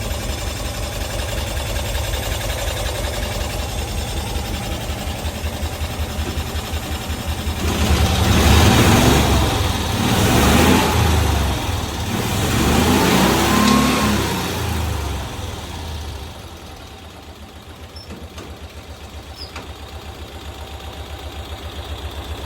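A 1990s Cushman Truckster utility vehicle's engine idles steadily up close, then revs up through several rising and falling bursts before settling back to a lower idle, with no talking.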